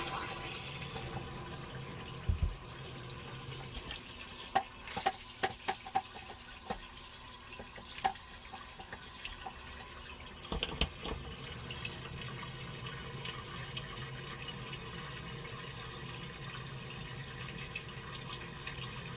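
Steady water runs into the empty black water tank of an RV, a continuous hissing flow with a few clunks and knocks partway through; no talking.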